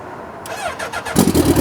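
A beginner rider's motorcycle cranks and catches, a short starter whir followed by the engine firing into a loud, uneven idle close by.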